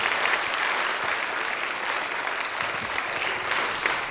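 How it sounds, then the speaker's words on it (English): A large lecture audience applauds steadily and loudly throughout, continuous dense clapping with no individual cheers standing out. "Feel free to cheer."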